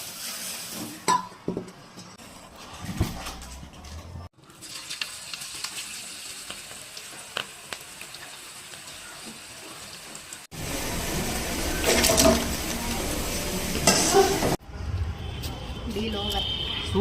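Cabbage pakoda batter of cabbage, onion, gram flour, rice flour, chilli powder and salt fries in hot oil, giving a steady sizzle and crackle that grows louder in the latter part, with occasional stirring clatter and a voice talking.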